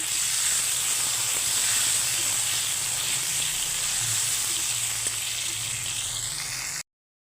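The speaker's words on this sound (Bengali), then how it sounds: "বেগুনগুলো সব একসঙ্গে ভেজে নিচ্ছি" Brinjal pieces frying together in oil, a loud, steady close-up sizzle and hiss that runs unbroken for about seven seconds before cutting off abruptly.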